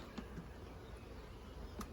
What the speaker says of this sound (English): We got bees in the top.